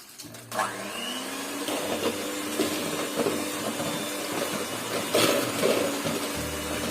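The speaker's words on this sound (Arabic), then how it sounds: "افضل اضرب لحد ما يفتح لون البيض" Electric mixer whipping four eggs with orange vanilla and sugar for a chocolate chip cake, a continuous close whir with faint clicks and bumps of the beaters against the bowl, no talk.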